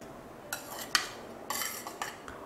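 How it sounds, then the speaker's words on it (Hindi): A spoon scrapes and clinks against a bowl as macaroni is added, with a few quick, close metallic taps and clatters spread over a couple of seconds in a quiet room. "बाउल में सबसे पहले हम मैक्रोनी डालेंगे"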